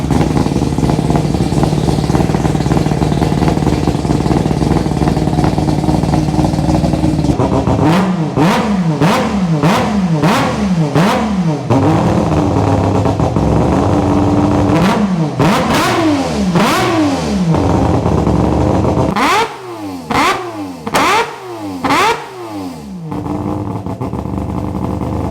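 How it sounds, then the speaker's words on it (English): A recorded 20B Bridgeport rotary engine sound played through a Tesla's external speaker: a loud, raspy rotary note with a series of sharp, rapid revs rising and falling in quick bursts, several in a row, then a pause and more blips. "Jack just created a new sound file for us for the Tesla. Now we have 20B Bridgeport"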